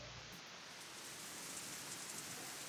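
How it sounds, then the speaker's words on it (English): Steady rain falls outside in a visual novel scene, a soft continuous hiss of drops spread evenly throughout, faint and unbroken, with no voices. "I hear rain, but there's no rain in my room."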